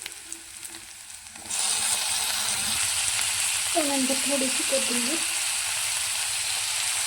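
Onion and tomato sizzle steadily in a hot pan for a spicy vegetable gravy, the frying jumping louder partway through and then holding a continuous close hiss while a voice speaks briefly over it.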